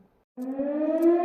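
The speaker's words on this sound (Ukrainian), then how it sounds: "і тут лунає сирена, тобто повітряна тривога" An air raid siren sounds in Odesa, starting abruptly after a moment of quiet and holding a loud, steady, slowly rising wail in the distance.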